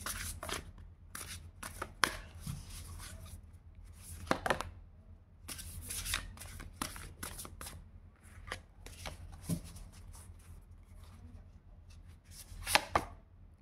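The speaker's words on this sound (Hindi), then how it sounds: "हम एक बार और शफल करेंगे" Tarot cards are shuffled by hand in close, irregular bursts of crisp slapping and riffling, with short pauses between batches and a few sharper snaps, and no voice heard.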